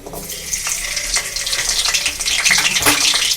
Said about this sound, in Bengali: রসুনটা একটু একটু সামান্য ভাজা ভাজা করে নেব